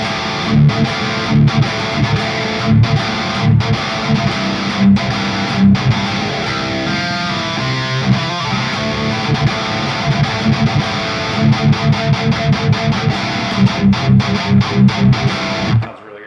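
Heavy distorted electric guitar through an STL Tonality Howard Benson amp plugin, playing a tight, chunky palm-muted rhythm riff with sustained chords and rapid chugging bursts, loud and alone without any voice.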